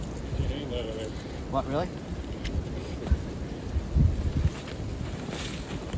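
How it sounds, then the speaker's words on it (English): Steady wind buffeting a microphone on open farmland while metal detecting, a constant broadband rush with gusty swells, while people talk briefly over it. "It's pretty windy."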